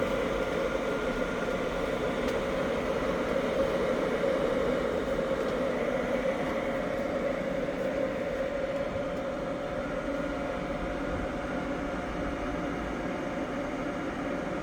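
A continuous low rumbling hiss of an electric water heater boiling water, holding steady and fairly loud throughout.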